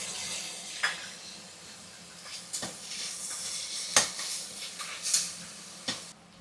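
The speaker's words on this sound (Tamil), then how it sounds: "தக்காளியும் போட்டாச்சுங்க, நல்லா வதங்கிட்டுருக்கு." Tomatoes sauté in a pan for samai (little millet) kichadi, a steady soft sizzle broken by occasional sharp clinks and scrapes of a spoon stirring against the pan.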